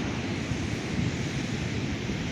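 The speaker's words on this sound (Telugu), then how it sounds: "సూర్యలంక బీచ్కి అయితే ఇప్పుడు మనం వచ్చేసినాము" Ocean surf at Suryalanka beach rolls in a steady, broad roar mixed with wind buffeting the microphone, continuous and fairly loud with no talking.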